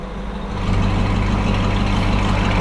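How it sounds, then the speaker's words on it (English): Lamborghini Huracan EVO fitted with a Novitec exhaust with valve flaps, engine noise rising after a brief quiet start into a loud, steady low roar that holds without a distinct rev peak. "we're gonna rev this car now and you're gonna see what it sounds like"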